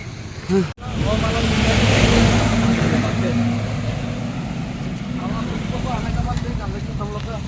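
A car comes up nearby with a continuous engine rumble and road noise that swells and holds, while people talk over it outdoors.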